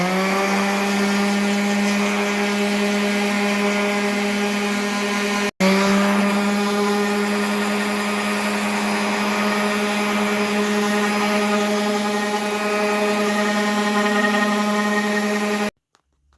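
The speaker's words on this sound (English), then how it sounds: "Now we'll hit it with a quick run on the orbital sander." An orbital sander runs on a wooden picture ledge shelf with a steady, loud motor whine and rich tonal hum. It cuts out for a moment, restarts, and continues until it stops near the end. No voices.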